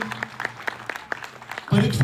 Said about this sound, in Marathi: तर पुन्हा एकदा या बालचमूसाठी सर्वांकडून कडकडाट, टाळ्यांचा कडकडाट व्हावा असं मी आवाहन करतो